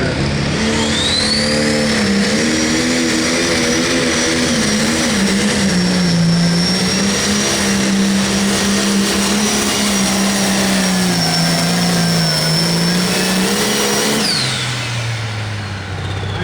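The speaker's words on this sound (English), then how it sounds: "he's getting ready to bend the throttle with the tractor" A John Deere pulling tractor at a 9,500 lb limited pro class tractor pull revs and holds a steady high roar for about fourteen seconds, with a whining tone above it, then drops back toward idle.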